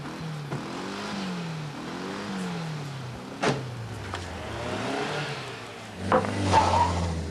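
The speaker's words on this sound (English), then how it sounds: "Just a gang of kids in a car." A car passes by with its engine revving, rising and falling in pitch as it moves, fairly close and loud against a steady background, with a louder burst near the end.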